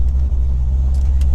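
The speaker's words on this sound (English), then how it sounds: "this car is gonna be loud, bro." A loud car engine idles with a deep, steady low rumble, close by and continuous, with no voices.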